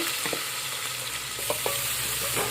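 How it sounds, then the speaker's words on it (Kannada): Onions and green chillies frying in hot oil in a home kitchen, a steady close sizzle with a few brief scraping stirs of the pan, no voices. "ಸೊ ಇದಕ್ಕೆ ಚೆಂದ ಇವಾಗ ಫ್ರೈ ಮಾಡ್ಕೊತೀನಿ ನಾನು"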